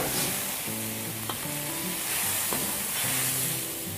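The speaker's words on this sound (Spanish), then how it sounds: "Esta vez haría falta revolver con mucho cuidado para no romper el queso de soya." Soy cheese sizzling and frying in a pan while being stirred carefully, with a steady hiss broken by the soft scrape of a utensil, close and continuous with no talking.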